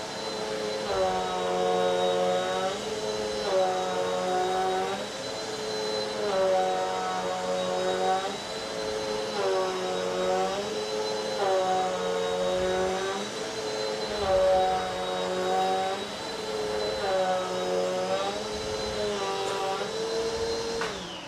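Bissell CleanView Compact and Eureka Airspeed Compact upright vacuums run over carpet strewn with cornmeal, a steady whining motor hum that swells and dips rhythmically with each back-and-forth pass.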